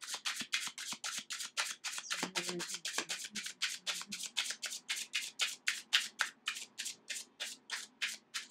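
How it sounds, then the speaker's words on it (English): Tarot cards being shuffled by hand, close and quiet: a long series of crisp riffling bursts repeats in a steady, brisk rhythm with a brief softer pause partway through. "I just wanted to shuffle them through one more time."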